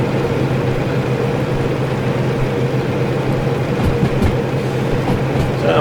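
Diesel mechanical locomotive running in the Derail Valley simulator game, a loud continuous rumble with low engine drone and occasional rail clicks and knocks toward the end.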